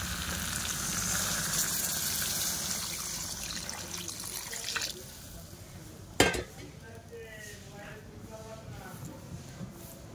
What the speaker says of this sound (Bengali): চলো আমি এবার জল দিয়ে নেবো।